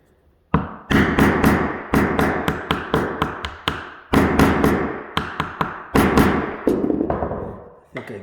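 Repeated sharp taps and thuds from a tool working a nail loose from a squeaky wooden floorboard, a dozen or more close, loud impacts in uneven bursts with brief gaps, no talk.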